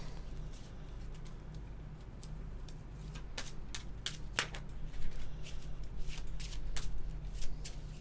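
Cards being shuffled in the Backrooms TCG video game, heard as a series of quick, light riffling and snapping clicks over a steady low background hum, with no talking.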